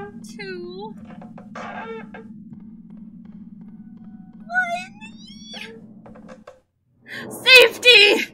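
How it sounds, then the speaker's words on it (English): In the horror game Spooky's Jump Scare Mansion, a kitten gives several short, high meows over a low steady hum, followed by louder sharp sounds at the end. "A kitten."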